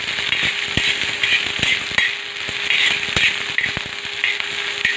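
Coriander stems, garlic and ginger sautéing in a pan, a steady hiss of frying with irregular sharp clicks and scrapes of a spatula stirring, close and continuous with no talk.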